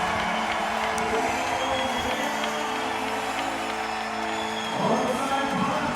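A crowd cheers and roars steadily in a stadium at a beach volleyball world championship match in Vienna, with a swell of louder whooping near the end under someone commentator talking.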